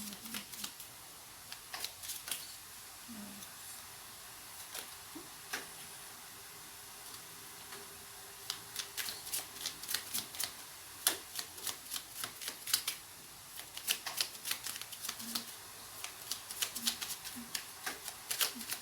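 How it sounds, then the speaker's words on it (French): Oracle cards shuffled by hand before one is drawn, a soft papery riffle of quick irregular flicks and slaps repeating throughout, close and fairly quiet. "je vais vous tirer une carte du petit oracle des anges"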